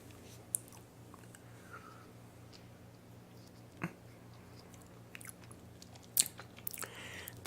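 Crunchy pickles being bitten and chewed up close in a quiet room, with a few sharp isolated crunches and soft wet chewing between them.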